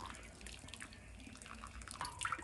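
Water splashes and drips as a skinned squirrel is lowered into cold water while being cleaned for cooking, a soft, steady liquid wash with a few brighter drip and splash accents near the end.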